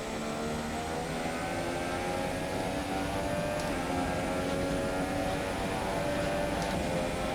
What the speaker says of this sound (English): Just short shifting a lot, testing the throttle a lot